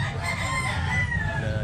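A fighting rooster crows once, a drawn-out loud call close by, over background noise with faint talk.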